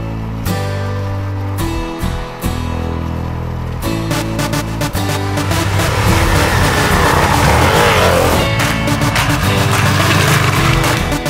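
A 2019 Honda CRF450L motorcycle engine revs loudly and close by, throttle blipped in short bursts before climbing into a sustained, rising roar that holds to the end.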